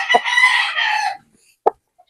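A Maclean Hatch gamecock rooster crows close and loud in one strong call, followed by a short cluck and then quiet.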